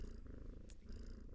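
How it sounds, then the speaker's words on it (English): Cat purring sound effect, a soft, steady, low rumbling purr with even rhythmic pulses, faint and alone without talk. "has the cat purring"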